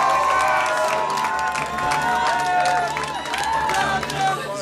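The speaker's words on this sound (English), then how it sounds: "Round of applause for this man" Crowd cheering and applause for a contestant at the New Zealand Man of Movember contest, loud and continuous with whoops and shouting voices mixed over the clapping throughout.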